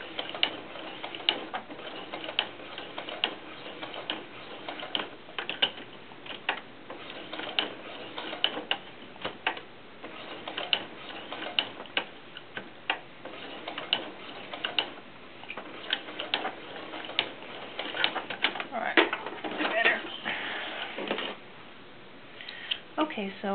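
A sewing machine stitches doll shoes with a rapid mechanical ticking and clatter that stops and starts, heard through and between a person's steady talking.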